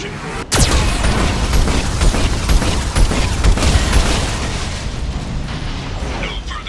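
Geth cannon artillery fire in Mass Effect 2, a sharp boom followed by a loud sustained rumbling barrage of explosions.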